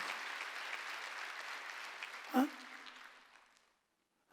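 Steady applause from a church congregation filling a room during a Sunday service, gradually fading out toward the end, with one brief louder thump midway.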